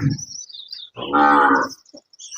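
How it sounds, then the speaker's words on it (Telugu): A Jafarabadi buffalo calf on a dairy farm gives one loud, drawn-out moo close by, framed by shorter grunts and a faint chirp. "ఇక్కడ చూసుకోవచ్చు జాఫరాబాది దూడ మంచి పొడవు ఉంది సైజు ఉంది"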